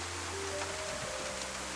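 Steady rain falls across dark open land in the DayZ survival game, a soft continuous hiss with low ambient hum and a faint tonal drone, no voices.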